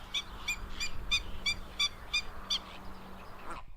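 A tiny Cetti's warbler sings in the Camargue reeds, a rhythmic run of short, sharp repeated notes at a steady pace, clear and fairly close over low outdoor background noise.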